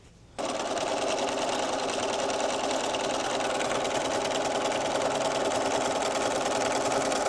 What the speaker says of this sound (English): I'm gonna sew that and we'll come back here.